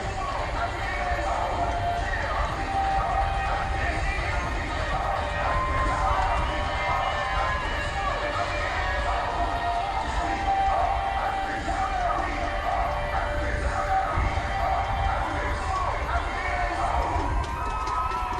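A big outdoor crowd at a national anniversary ceremony in Eagle Square, Abuja, cheers and applauds an acrobatics troupe, making a loud, continuous, dense roar throughout with no breaks.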